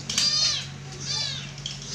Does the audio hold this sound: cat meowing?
yes